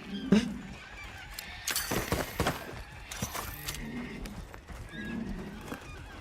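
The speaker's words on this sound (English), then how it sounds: "these birds are super loud" Birds in the Monster Hunter Wilds video game call loudly in a chorus of honking, whinny-like cries with several bursts overlapping, fairly close.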